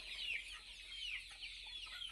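Free-range chickens resting in a poultry shed cluck and chirp softly in overlapping, high-pitched calls, a faint continuous flock sound with no talking.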